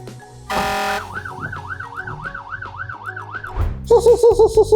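A toy fire truck siren wails in rapid electronic rises and falls, preceded by a buzzy tone and ending with a higher, faster warble; loud and close, no talking.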